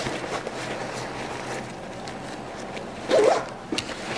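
A zipper on a gear pouch is pulled open in one quick rasping stroke, close and clear over faint background noise.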